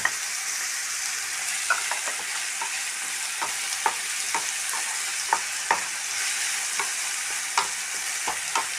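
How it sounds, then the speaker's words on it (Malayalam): Sliced onion with a little salt and curry leaves sautés in a pan for an egg thoran, a constant close sizzle punctuated by frequent sharp scrapes and taps of a spoon stirring, with no talking. "അപ്പോൾ നമുക്ക് ഈ സബോള നന്നായിട്ടൊന്ന് വാടണം"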